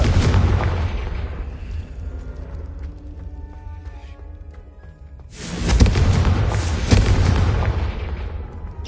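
A Confringo spell in Hogwarts Legacy sets off two heavy booming explosions, each followed by rumbling debris, with a quieter stretch of low rumble between them.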